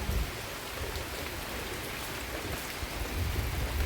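Steady rain pours down in a dense, even hiss, close by with no voices.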